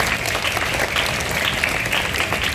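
Dense applause from a crowd honouring teachers at a school Youth Pledge Day gathering, loud and sustained throughout with no break.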